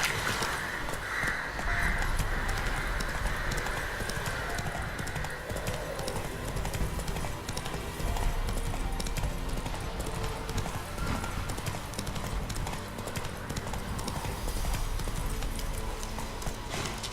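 Horse hooves clip-clop steadily in The Witcher 3 video game, a continuous trotting rhythm under game ambience with occasional crow calls and no clear talk.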